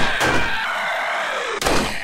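Frantic gunfire aimed at a spider in a zombie survival video game: two loud, sharp bursts of shots a second and a half apart, with a ringing, droning tail sustained between them.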